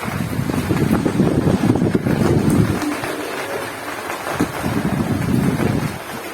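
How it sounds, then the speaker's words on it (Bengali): A heavy monsoon downpour pounds a village home in the morning, producing a dense, continuous roar with gusty surges throughout, with no talk over it. "একদম ধোঁয়াধার বৃষ্টি হচ্ছে।"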